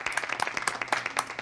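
Clapping sound effect from the video game Nekopara 2: a brisk run of close, crisp claps with an uneven patter rhythm, lasting about a second and a half.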